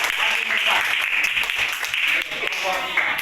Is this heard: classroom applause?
yes